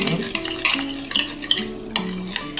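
About two kilos of chicken wings are stirred with garlic, salt and oil, giving close, wet shuffling and scraping in several quick strokes with light clinks.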